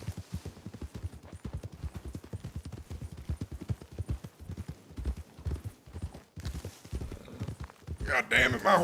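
Rapid, steady clip-clop of horse hooves at a gallop in Red Dead Redemption 2, close and continuous, with a brief burst of louder noise near the end.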